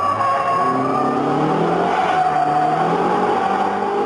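Car engine revving hard with tyres skidding during a shift-lock drift, loud and close, pitch climbing and falling over a steady tyre hiss.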